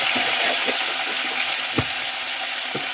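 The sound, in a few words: curry leaves frying in oil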